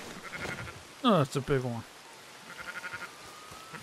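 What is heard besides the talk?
sheep bleating in video game Red Dead Redemption 2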